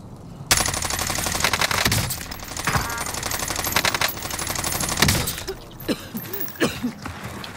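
Gunfire in the video game Modern Warfare Warzone: a sudden loud burst of rapid automatic fire running for several seconds, then scattered sharp single shots and impacts, close and dominant.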